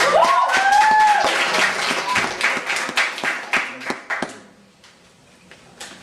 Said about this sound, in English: Let's clap it up for Latoya, y'all.